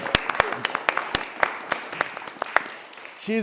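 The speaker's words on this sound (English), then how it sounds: "let's give a round of applause to Shannon" An audience claps for someone who just entered the police academy, loose scattered applause with distinct sharp claps over a soft background, fading near the end as a voice begins to speak.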